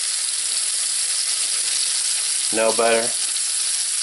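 Scallops searing in a hot pan, giving a steady loud sizzle and hiss throughout, close by, with a brief spoken remark partway through.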